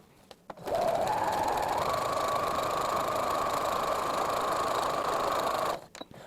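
A sewing machine stitches face mask fabric in one continuous, steady whirring run of about five seconds, starting and stopping cleanly with a few soft handling clicks around it.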